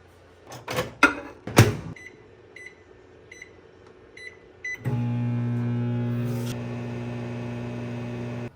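Microwave oven running while reheating food with an ice cube on top, a few clicks and beeps of the door and keypad, then a steady close humming drone that continues to the end.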